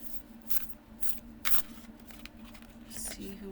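Large oracle cards being shuffled up close in soft, repeated riffling bursts, with quiet pauses between them.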